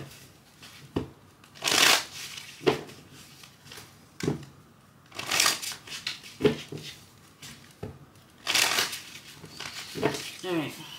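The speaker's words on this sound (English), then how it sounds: "Let me do a quick shuffle, because a lot of cards want to come out." Tarot cards being shuffled in quick repeated riffling bursts, close and crisp, with softer handling sounds between them and a voice speaking briefly.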